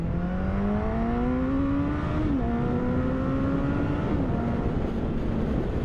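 A Suzuki Hayabusa motorcycle accelerates hard in first gear, its engine note climbing steadily in pitch with brief dips at shifts, loud and continuous under heavy wind rush.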